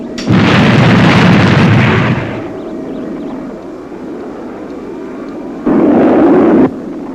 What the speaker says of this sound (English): Fire boosters.